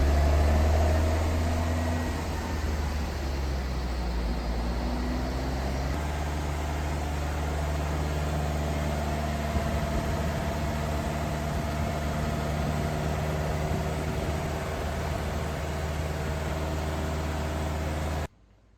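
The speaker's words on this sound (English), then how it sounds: "going through the RPM, it does sound really good. It's got a nice, different exhaust note." A Gibraltar MK car engine idles steadily with a low, droning exhaust note, continuous and fairly loud until it cuts off near the end.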